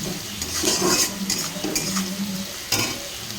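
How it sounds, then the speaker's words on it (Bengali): Onion and bay leaf sizzling in hot oil in a home kitchen pan, with soft stirring scrapes and light clinks of utensil on metal, fairly quiet and close. "তেজপাতা ফোড়ন দিয়ে পেঁয়াজটা ফোড়ন দিয়ে দিলাম"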